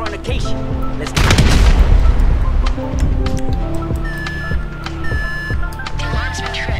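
A planted charge detonates in Grand Theft Auto 5 as a heavy, loud boom with a rumbling tail. Game music and other effects play around it, and a voice can be heard.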